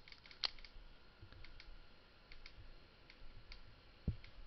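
Two faint, sharp computer mouse clicks, one early and one near the end, separated by several seconds of near-silent room hiss.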